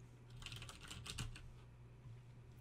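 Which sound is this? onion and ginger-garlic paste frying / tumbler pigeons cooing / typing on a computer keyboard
typing on a computer keyboard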